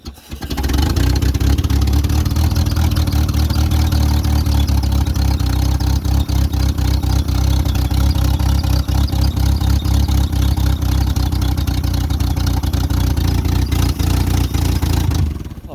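A loud, rough old Leyland Series III engine runs steadily and close, with a heavy low rumble and clattering, uneven pulses that persist throughout without pause.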